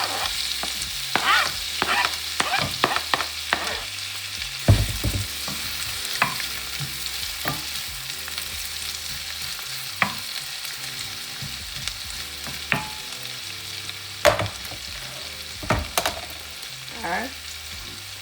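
Onion, tomato, hot pepper, scallion and thyme fry in hot oil in a single pot, a steady loud sizzle broken by frequent clacks and scrapes of stirring, with one brief spoken word.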